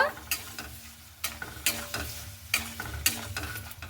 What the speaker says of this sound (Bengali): পেঁয়াজটা দিয়ে দিব সেই মশলার ওপরে তো খুব ভালো মতো করে আমি নাড়াচাড়া করে নেব